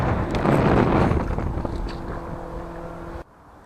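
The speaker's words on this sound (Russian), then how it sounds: "А ветер-то стихает" Wind buffets the microphone beside the Yenisei River at Tatyshev Island while someone fishes for grayling. A rough, gusty rumble fills the first few seconds, then drops off abruptly near the end.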